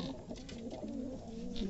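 Pigeons coo softly on a rooftop at night, a few low, rolling calls close by and fairly quiet, with no voices heard.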